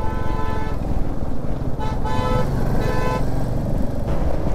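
Car horns toot loudly and repeatedly over dense engine rumble in a stopped traffic jam on a fully blocked highway in Bihar, several horns overlapping continuously.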